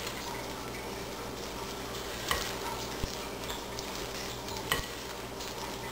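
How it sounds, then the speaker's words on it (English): Whole wheat bun dough stirred with a wooden spoon in a bowl, giving a quiet, steady scraping and churning with a few sharp knocks of the spoon against the bowl. "Mix that up nicely."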